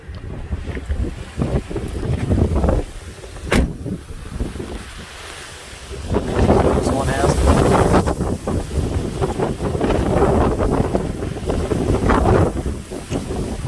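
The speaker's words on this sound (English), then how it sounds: "apparently it's pretty windy out here today" Heavy wind buffets the microphone in loud, rumbling gusts, with surf-like roaring noise and no speech, swelling stronger in the second half.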